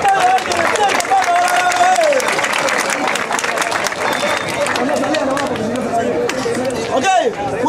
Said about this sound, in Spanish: Hermano, fuerte los aplausos para esta batalla.